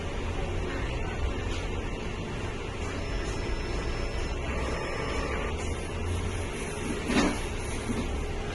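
A DTF printer runs a print head cleaning cycle, giving a low, steady mechanical hum and whir that stays faint throughout, with a brief soft clunk near the end.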